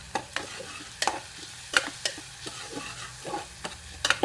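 Onions with a spoonful of spice powder being stirred in a pan for beetroot gravy, a spoon scraping in short, sharp strokes about once or twice a second over a faint sizzle, fairly close, with no talking.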